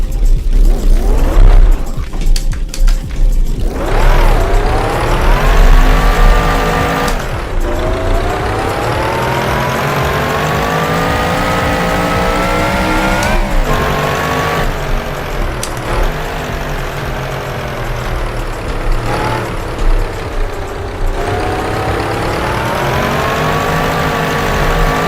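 Classic sports car lapping a street circuit near Napoli, engine roaring loudly and continuously with repeated revs rising through the gears and dipping on lifts for corners, close and sustained throughout.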